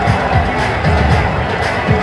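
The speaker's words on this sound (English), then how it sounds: "That got the crowd going, the Indian side of it." A cricket crowd cheers after a wicket-taking catch at a Pakistan vs India ACC Emerging Teams Asia Cup 2025 match, making a steady, dense roar throughout with no clear peaks.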